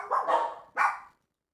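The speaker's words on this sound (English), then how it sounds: "the dogs are barking again." Two sharp dog barks, the first drawn out and the second short, fairly close, then silence.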